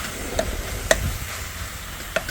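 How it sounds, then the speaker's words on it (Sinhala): Pork pieces tossed in oil for a red pork curry, with a few sparse, faint scraping clicks from the spoon against the pan over a low sizzling background. "දැන් මේ විදිහට හොඳට කලවම් කළා මම"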